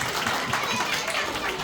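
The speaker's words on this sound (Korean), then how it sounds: "우리 격려의 박수 하겠습니다" A children's church group at an elementary Sunday worship service gives a brief burst of encouraging applause, a short, even patter of many small hands with voices mixed in.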